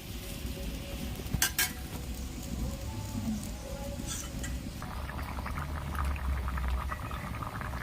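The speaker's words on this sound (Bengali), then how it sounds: "ঝোলটা ফুটছে" Jackfruit curry gravy with a little added water bubbles steadily in a cooking pot, a continuous close simmering hiss broken by a couple of brief metallic clinks early on.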